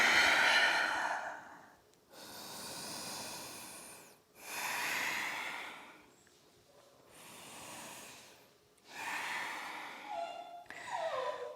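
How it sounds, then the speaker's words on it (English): Slow, deep breaths during a vinyasa yoga flow, each exhale pushed out through the mouth as a long, breathy rush that fades away, repeated about five times with quiet pauses between, close and unhurried. "exhale through the mouth, let it all go"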